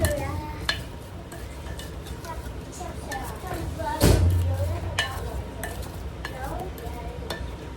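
Potatoes tossed with a packet of wing seasoning mix are stirred in a pan, giving soft scraping and occasional utensil clinks over a faint sizzle, with one louder clatter midway and speech mixed in.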